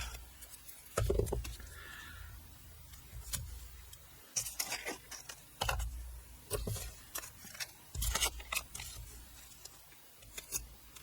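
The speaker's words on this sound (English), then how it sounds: "I'm going to apply tape." Tape being pulled off a roll and pressed down while decorating a wedding folio, with irregular close tearing and crinkling bursts and small taps spread across several seconds, with no talking.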